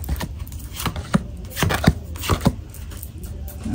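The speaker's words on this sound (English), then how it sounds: "let's pre-shuffle the card." Tarot or oracle cards being shuffled during a card reading, several soft riffling and tapping bursts of varying loudness at close range, with no talking.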